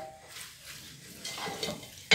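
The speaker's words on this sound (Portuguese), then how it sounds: "Mas eu já vou fritar assim mesmo." Pork rinds (torresmo) fry in a salted pan with a steady low sizzle, and a spoon stirs them with soft scraping before a sharp metallic clank at the end.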